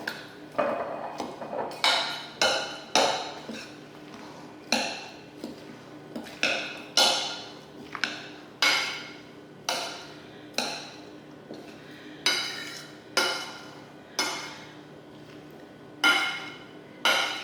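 A spoon clinks and knocks against a bowl while mango pineapple salsa is mixed, ringing taps repeating at a fairly regular pace throughout, close and clear with no talking.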